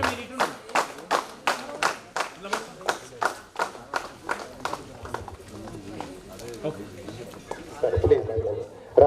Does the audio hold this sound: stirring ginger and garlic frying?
no